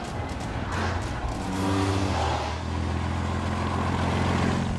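A 27-litre Rover aero-engine car revving low and heavy, a deep rumbling engine note that swells slightly and holds steady at close range throughout.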